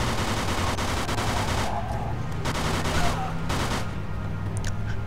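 Rapid bursts of gunfire from the video game Mafia II crackle loudly over a dense, steady layer of in-game noise, with sporadic voices mixed in.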